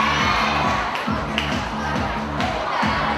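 A youth and student association anniversary crowd in Vietnam cheers and claps for a game-show contestant, a loud, dense burst of applause mixed with shouting and chatter, while a music track plays underneath.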